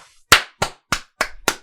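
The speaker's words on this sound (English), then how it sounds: "Big round of applause." Five crisp, close hand claps sound at a steady, slightly uneven pace, each a single sharp clap with a short quiet gap before the next.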